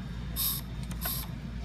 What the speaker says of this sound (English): I put the boost vacuum pump on to the wastegate and I pumped it up